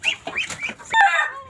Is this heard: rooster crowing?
yes